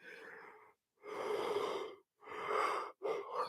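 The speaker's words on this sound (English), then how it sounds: "You shouldn't have said yawn." A person yawns in several long, breathy gasps with short pauses between, heard close up and with no talking, during a live home renovation.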